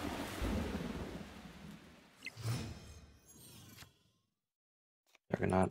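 Thunderstorm effect from the Storm card in the Marvel Snap video game: a loud rolling rumble of thunder with rain-like hiss fades over about four seconds, then silence and a brief burst of game sound.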